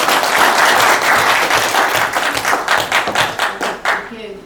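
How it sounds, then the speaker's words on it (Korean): A large audience at a science forum anniversary event claps in welcome, loud and dense at first, then thinning into distinct individual claps before fading out near the end. "여러분 큰 박수로 환영해 주시기 바랍니다."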